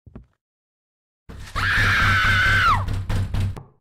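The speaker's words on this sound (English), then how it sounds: "Why was there a woman screaming?" A woman's scream in a horror house-cleaning video game set in a murderer's home, a single sustained high wail of about a second and a half that bends downward, over a low rhythmic background hum, with a few knocks after.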